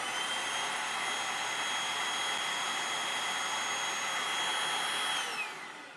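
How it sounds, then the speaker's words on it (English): A Eureka Blaze stick vacuum runs with a steady high-pitched whining motor roar and hiss for several seconds, then starts winding down at the end, with no one talking. "The last step is to go ahead and turn the vacuum on."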